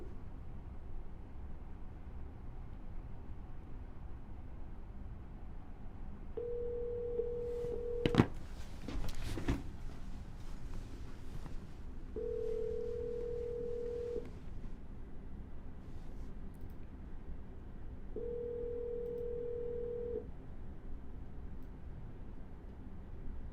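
An outgoing phone call with three long ringback tones evenly spaced over quiet line hiss, a brief click and crackle after the first tone, no voices.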